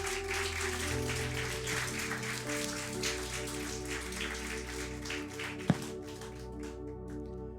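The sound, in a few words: congregation applause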